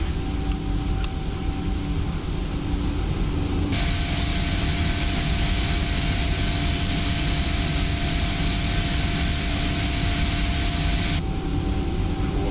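A PMDG Boeing 777-300ER climbing after takeoff in the Prepar3D flight simulator game makes a constant loud jet engine roar with a steady whine, and a brighter layer of noise is heard through the middle section.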